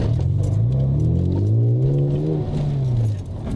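Loud, close engine note of a BMW Z4 M Coupe as the driver shifts gears, a continuous drone that climbs in pitch, eases and climbs again before dropping off, with no talking.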